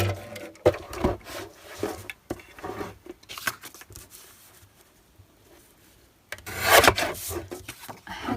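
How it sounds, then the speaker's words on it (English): A paper guillotine slicing through paper, heard as a few close, short scraping cuts near the start and a louder rasping cut near the end, with quieter rustling between and no talking. "I had this guillotine for like 20 years now and I never use it."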